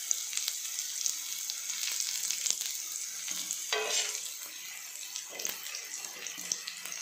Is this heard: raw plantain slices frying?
yes